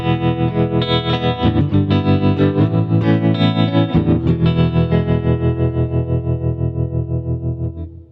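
Electric guitar run through a Walrus Audio Monumental analog tremolo pedal, a loud distorted chord sustained with steady, rapid volume pulsing across the whole stretch, fading out at the end.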